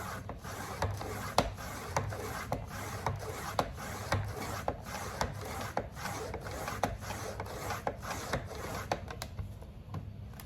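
Faux leather is cut by hand into one-inch strips for wristlets: a steady, close, scratchy slicing texture with regular faint ticks, continuous for about ten seconds, with no talk.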